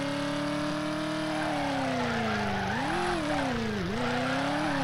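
A car engine in the Driver video game revs hard with the pedal floored, a loud continuous drone whose pitch climbs, dips and rises again as the throttle shifts, with tire noise underneath.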